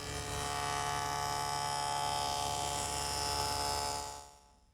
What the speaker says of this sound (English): I make that joint over at the table saw using my stacked dado head cutter.